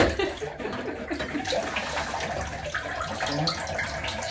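Water runs steadily and splashes while a dog is washed in a bath, a continuous close rushing and sloshing with no pauses.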